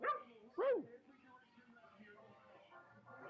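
A dog gives a couple of short barks and yips up close, the sounds scattered over the first second and trailing into quieter whimpering.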